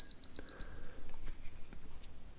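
A run of quick, high electronic beeps from a Minolta X-700 camera's low shutter speed warning in the first half-second or so, followed by quieter clicks and a soft hiss.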